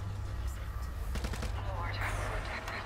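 Gunfire in the zombie shooter World War Z, a short cluster of shots over a constant low game hum and background noise, with some faint voice-like sounds.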